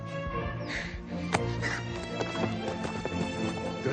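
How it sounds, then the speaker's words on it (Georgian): A fast horse gallops with rapid clip-clop hoofbeats and lets out a neigh, moderately close and steady for a few seconds. "სწრაფი ცხენია."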